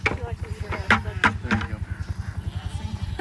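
Goats on a farm bleat in several short, wavering calls over a steady rhythmic thumping or chopping in the background, with people's voices around them.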